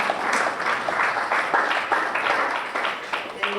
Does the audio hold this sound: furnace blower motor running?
no